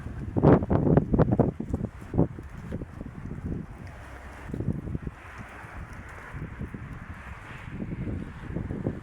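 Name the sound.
wind blowing leaves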